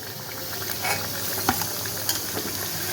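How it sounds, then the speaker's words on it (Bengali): Banana flower and shrimp cutlets frying in a pan, a steady moderate sizzle punctuated by a few scraping and clinking sounds as they are turned. "তিন চার মিনিট ধরে এটাকে উল্টে পাল্টে ভেজে নেব।"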